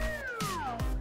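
A cartoon cat stuck up high lets out one drawn-out meow that slides downward in pitch, loud and close with no other sound around it.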